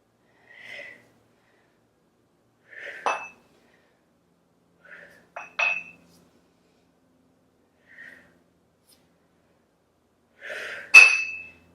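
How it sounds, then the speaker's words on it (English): Sharp breaths in and out during a dumbbell exercise, with a handful of short, close, breathy puffs separated by long silences and a faint metallic clink near the end. "Inhale and exhale."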